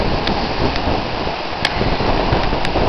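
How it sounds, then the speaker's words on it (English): Steady hiss of rain blown in by Hurricane Gustav, a close, unbroken wash with a few faint sharper spatters, heard alone without voices. "Wind coming right at me, along with the rain."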